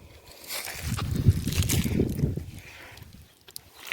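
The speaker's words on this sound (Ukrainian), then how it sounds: "Зараз я їх ще пролю водичкою." Water pours and sloshes from a watering can onto freshly planted gladiolus bulbs in garden soil, a steady splashing that swells in the middle and then thins out, with no talking over it.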